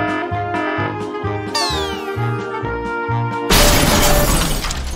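A cartoon spaceship crash-lands on a planet after an asteroid strike, heard as a loud descending whoosh over music followed by a sudden, sustained crashing burst of noise.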